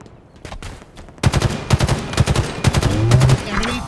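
Rapid gunfire from Halo Infinite ranked split-screen play, with bursts of automatic weapon shots building after a quieter start and a rising electronic whine late in the clip.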